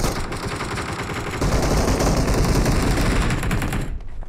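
Rapid automatic gunfire from the mobile battle-royale game PUBG Mobile rattles loudly and continuously for several seconds, then cuts off abruptly, with no talk over it.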